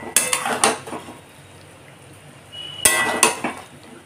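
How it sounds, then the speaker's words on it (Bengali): A metal plate set over a pot of chicken kosha cooking with potatoes gives two sets of sharp clanks and scrapes, close by, with a quiet kitchen between them. "আবার আমি ঠিক একইভাবে থালা দিয়ে চাপা দিয়ে দেবো।"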